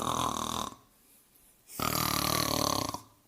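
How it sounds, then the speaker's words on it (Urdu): A cartoon giant snores loudly, two long, rasping breaths split by a quiet pause, close and with no other voices. "جلد ہی وہ خراٹے لینے لگا۔"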